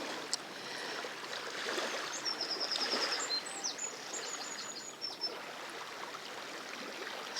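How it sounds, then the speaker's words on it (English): Gentle water lapping at the edge of a lake at a caravan site, a soft continuous wash with birdsong chirping clearly over it in the middle, calm and fairly quiet. "It's very peaceful, lapping water and bird song."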